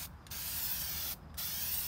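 Two short bursts of hissing hammered-finish spray paint onto a car splash guard, with a brief pause between them, close and steady.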